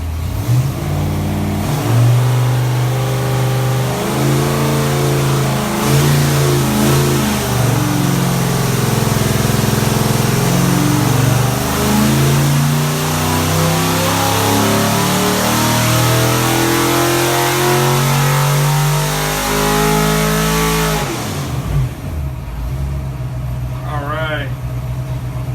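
A 331 stroker V8 engine with Holley Sniper EFI revs hard to 6,300 RPM, climbing steadily in pitch for about twenty seconds, loud and close, then drops away as a voice briefly speaks.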